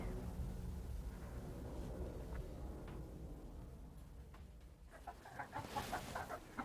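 Chickens cluck and murmur at a moderate distance over a low background rumble, with sharper clucks growing more frequent toward the end.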